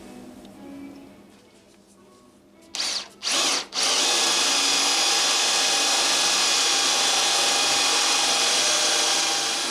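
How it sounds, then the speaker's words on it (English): A power drill starts with a few short bursts, then runs steadily and loudly, boring 5/8-inch holes into a wooden bench with a Forstner bit up close. "I've got a 5/8 inch Forstner bit, and so let's drill out these four little holes"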